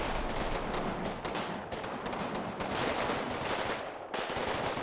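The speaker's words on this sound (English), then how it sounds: "Even some fire coming from down the street here, as everyone's just kind of standing in the open, shooting back and forth." Gunfire and explosions in Combat Mission Final Blitzkrieg, a dense, loud, continuous fusillade of rifle and machine-gun fire with brief gaps and sharp bursts, no talking.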